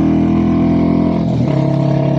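Stock Royal Enfield Classic 350 single-cylinder motorcycle engine idling steadily up close, a continuous low thumping drone with a slight dip in pitch midway, no talk.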